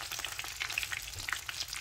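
Basa fish fillets frying in hot oil in a home kitchen, giving a steady close crackling sizzle with scattered sharp pops throughout and no voices.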